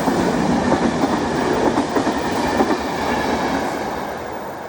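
Railway cars roll past a graveyard with the Rankin obelisk, a loud continuous rumble with rhythmic clickety-clack of wheels over rail joints, gradually easing off toward the end.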